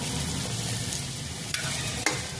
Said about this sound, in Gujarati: હવે હું રતાળુ ચિપ્સ તળું છું.